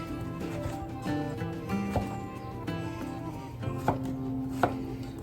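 A knife cuts chicken into bite-sized chunks on a board, a few irregular sharp taps spaced through the moment over quiet kitchen background.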